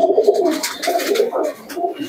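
A Kasuri pigeon coos close by in repeated throaty, rolling phrases, loud and clear with no talking.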